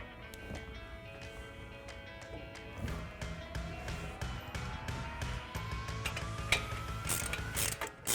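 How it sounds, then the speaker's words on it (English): A 1/2-inch ratchet backs brake bolts out of a 2009–2018 RAM 1500 during a brake rotor and pad swap, giving close, steady clicking in quick runs with a rising whir as the bolt spins free and no talking. "you can switch to your 1/2-inch ratchet to go ahead and finish taking those out."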